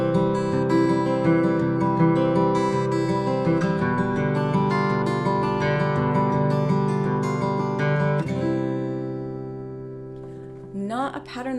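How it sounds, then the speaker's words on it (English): Fingerstyle guitar plays a Giuliani exercise 30 etude built on a sixteenth-note triplet arpeggio pattern, a steady rolling run of plucked notes over sustained bass that rings on, then fades before a brief voice enters at the end. "our next etude is going to be based on Giuliani exercise number 30"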